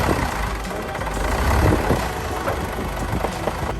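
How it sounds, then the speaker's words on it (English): A heavy oversize truck's engine labours up a slope with its wheels stuck, a growling, uneven low rumble that swells and dips, heard fairly close. "we see a truck stuck halfway up a slope, its wheels buried, engine growling in frustration"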